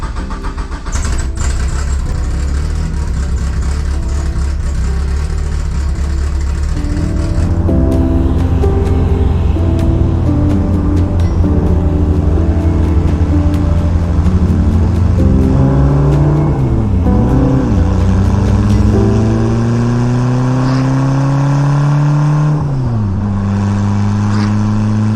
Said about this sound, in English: Let's fire her up and see how she does in cold start.